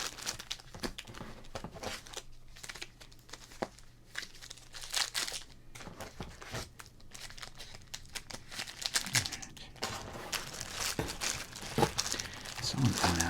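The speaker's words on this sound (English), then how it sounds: "I want to open up these popper cards" Wrapped packs of 1986 Donruss sports cards being torn open, with steady crinkling and crackling wrapper plastic and tearing close to the mic, continuous and moderately quiet.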